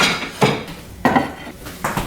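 Ceramic plates clatter as they are stacked into a kitchen cabinet. Three distinct clinking knocks come close and fairly loud at a steady pace, with a faint rustle between them and no talking.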